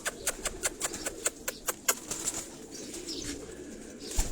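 Domestic pigeons kept at a home loft flap their wings in a quick run of sharp, evenly spaced claps, which fade into softer rustling and faint coos over steady background noise.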